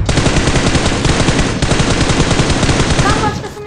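Rapid automatic gunfire from a PUBG Mobile match, loud and close, crackling continuously for several seconds before tapering near the end.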